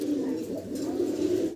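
Fantail pigeons coo in a low, throaty, continuous murmur, close and moderately quiet, for about a second and a half before cutting off abruptly.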